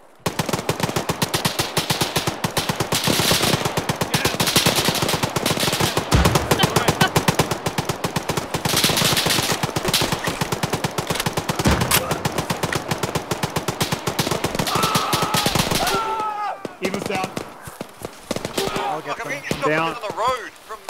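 Rapid automatic gunfire in the Arma military video game, with near-continuous bursts of shots for about sixteen seconds. It then tapers into sparse shots with voices talking over it.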